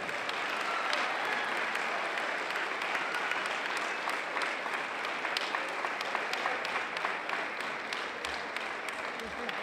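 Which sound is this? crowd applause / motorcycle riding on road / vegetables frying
crowd applause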